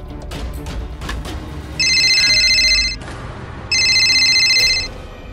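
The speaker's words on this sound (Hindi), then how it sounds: "इसीलिए आपके मोबाइल में बार बार किसी और का कॉल आ रहा है" A mobile phone rings with an incoming call, two loud electronic ring bursts, each about a second long, separated by a short gap over a dull background.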